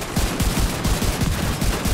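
Rapid automatic gunfire during a raid boss fight in The Division 2, a fast, steady stream of loud, close shots with no pause.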